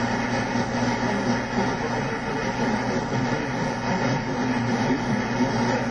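A dense wash of static with a faint, garbled signal buried underneath on a TIVDIO V-115 or V-116 radio receiver, steady and loud throughout with no clear words.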